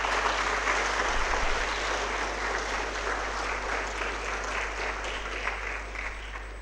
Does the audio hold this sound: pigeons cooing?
no